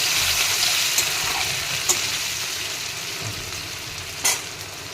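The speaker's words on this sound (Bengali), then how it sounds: "এবার একটু কষিয়ে নেব" Grated ginger sautéing in a hot pan with a pinch of asafoetida while preparing a magur fish curry, a steady close sizzle with a few soft stirring knocks and scrapes, no voices.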